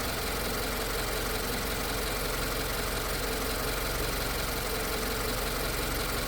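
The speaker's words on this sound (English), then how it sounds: "Does the idling seem erratic?" A steady 2025 Subaru Forester boxer engine idle runs the whole time, a low rumble with faint irregular knocking, nothing else heard.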